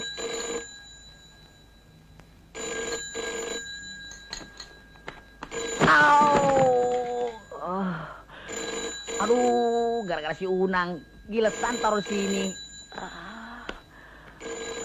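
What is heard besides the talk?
telephone ringing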